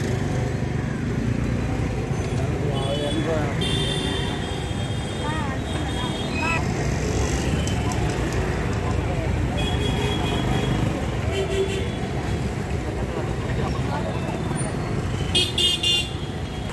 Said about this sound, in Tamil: காலையிலேயே மயிலாப்பூரில் எவ்வளோ டிராஃபிக் பாருங்கள்